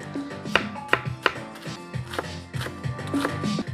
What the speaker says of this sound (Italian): Anche la cipolla tagliamo così a dadini.